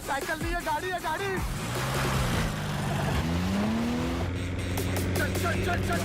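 A car engine revving and accelerating with a rising whine, following a burst of voices and clattering, then holding a steady roar under a faint tonal background.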